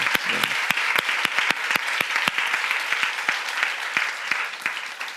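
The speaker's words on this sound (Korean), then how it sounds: "우리 박수로 축복해 주시면 감사하겠습니다." Church congregation applause for parking volunteers during a Korean fasting prayer meeting: a hall full of people clapping steadily, with sharp individual claps standing out over a dense wash that slowly thins toward the end.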